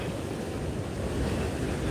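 Ocean surf rolls onto the shore at Cocoa Beach, Florida, a steady, loud wash of breaking waves mixed with wind buffeting the microphone, with no voices.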